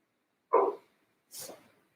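Two short barks from a dog some distance away, separated by a brief pause, in an otherwise quiet setting.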